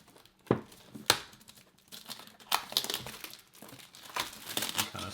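Plastic wrap crinkles and tears as it is pulled off a bamboo tea box organizer, with close, sharp crackling bursts spread over a few seconds.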